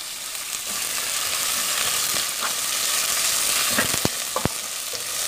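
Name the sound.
onion sautéing in a pan for bacalhau à brasileira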